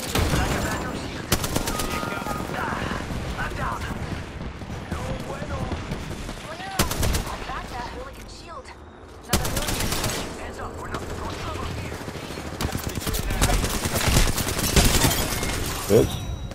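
Rapid automatic weapon fire in Apex Legends rattles almost continuously in loud, dense bursts, broken by brief lulls near seven and nine seconds, with a voice talking intermittently amid the shooting.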